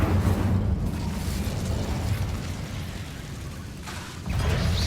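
Incendio fire spell cast in Hogwarts Legacy, a loud rumbling burst of flame with a mechanical crackle that holds steady for several seconds, dips slightly, then surges again near the end.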